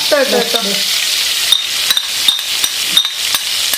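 Onions, black pepper and curry leaves dropping into a hot wok: a brief clatter at first, then a bright, steady sizzle broken by sharp knocks and taps, close and loud.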